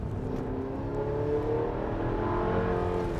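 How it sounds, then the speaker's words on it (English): A 2026 Chevrolet Traverse RS accelerating under throttle, a steady engine drone that rises slightly in pitch as it pulls, heard from inside the cabin with no speech. "let's get on the throttle"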